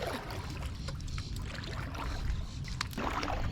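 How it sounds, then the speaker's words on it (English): A Tucktec folding kayak is paddled through a bay, with faint water splashes and drips from the paddle strokes over low wind rumble, heard from close by. "I am out in my Tucktec kayak"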